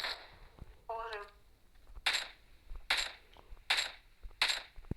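Four sharp gunshots in PUBG ring out at roughly even intervals, loud and close, after a brief tonal chirp near the start.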